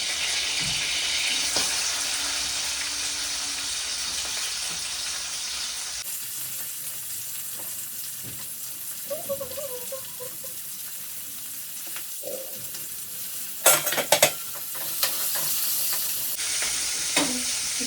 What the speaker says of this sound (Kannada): ಸ್ವಲ್ಪ ರೋಸ್ಟ್ ಆದಮೇಲೆ ಈರುಳ್ಳಿ ಹಾಕೋಣ.